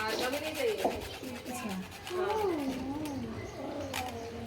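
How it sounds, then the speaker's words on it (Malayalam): A nutmeg is scraped on a grater into a sweet modak filling, giving a soft, uneven rasping that runs under a voice. "ജൈഫൽ ചുരണ്ടി ഇടുന്ന ഞാൻ."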